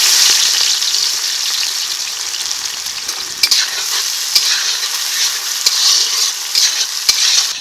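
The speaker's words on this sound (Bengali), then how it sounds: "প্রথমে আমি পেঁয়াজগুলো ভেজে বেরেস্তা করে নেব" Oil sizzles and crackles loudly and steadily as onions fry, with occasional sharper pops and scrapes of stirring. No one speaks.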